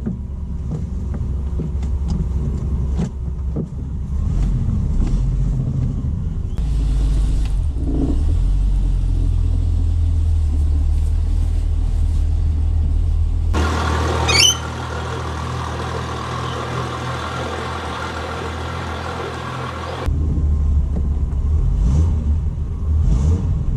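A Triumph 2500 MK I car drives around the block, its engine rumbling low and steady and occasionally revving up as it accelerates.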